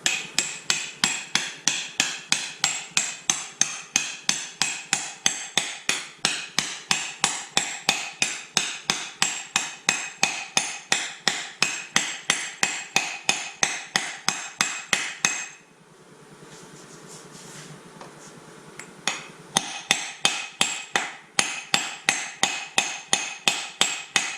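A new output seal is tapped into a 4L80E transmission extension housing with a hammer, giving a steady run of sharp, evenly spaced metallic strikes. A brief pause falls about two-thirds through, and then the tapping resumes.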